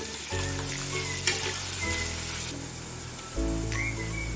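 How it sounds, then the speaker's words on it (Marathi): Chopped onion fries in a pan toward golden brown for a spicy Malvani chicken sukka, giving a steady broadband sizzle over a low humming drone, with a brief scrape near the middle. "हा कांदा पण आपल्याला गोल्डन ब्राऊन रंग येईपर्यंत परतून घ्यायचा आहे."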